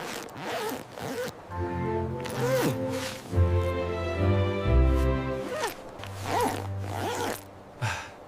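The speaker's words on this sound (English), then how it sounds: "Ethan, zip up your jacket" A jacket zipper is pulled up on a cold snowy day, a series of quick rasping zip strokes close by, with a sustained low tone running underneath.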